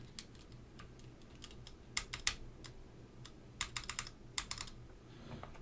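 Typing on a Matrix Labs NOOS mechanical keyboard with Gateron Box Ink switches comes through as scattered, crisp key clacks in small irregular clusters, fairly faint over a low steady hum.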